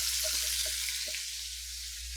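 Fresh hot long peppers fry in a hot pan, producing a steady, close, broadband sizzling hiss that holds evenly throughout, with no talking.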